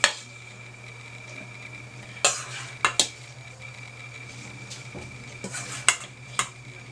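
A spoon mixing sesame cookie dough in a bowl, with a few sharp clinks and scrapes spaced over a quiet background hum, close by with no talking.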